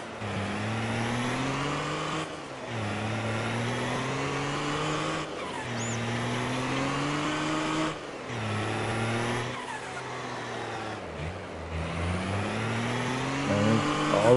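A truck drives across the farm in Farming Simulator 22, its engine holding a steady mid-pitched drone. Periodic gear-like dips and rises recur every few seconds, close and continuous with no talking.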